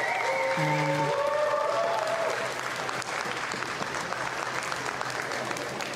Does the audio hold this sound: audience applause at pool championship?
yes